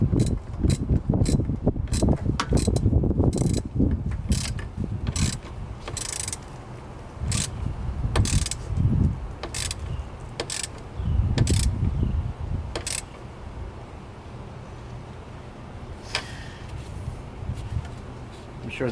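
A ratchet wrench tightens a battery terminal on a Ram 1500 pickup, close rapid clicking bursts interleaved with metallic clunks and handling noise, repeated several times before tapering off.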